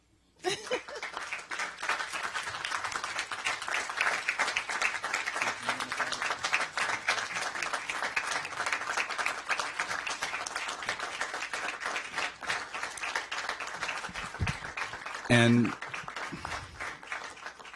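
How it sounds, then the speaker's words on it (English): Sustained audience applause at a county council meeting, dense clapping from a crowd that carries on for most of the stretch, with a brief voice and a louder bump near the end. "We're gonna get another round of applause"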